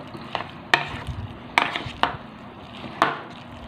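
A spoon stirs a floured shrimp mixture in a bowl before the breadcrumb coating, making soft wet scraping with four or five sharp clinks against the bowl at uneven intervals, close by and without talk.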